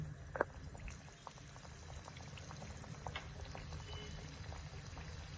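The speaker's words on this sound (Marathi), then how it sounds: "आता आपण अनारसा कढईमध्ये घालून घेणार आहोत" Quiet, steady bubbling and crackle of a jaggery anarsa, poppy-seed side up, frying in hot oil in a kadhai, with faint scattered pops and one brief louder sputter near the start.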